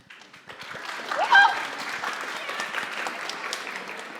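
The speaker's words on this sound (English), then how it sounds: "let's give it up for O'Shea" An audience applauds Mr. O'Shea at a summer program finale event, the clapping swelling quickly into a steady, fairly loud wash of many hands that carries through to the end without any voices over it.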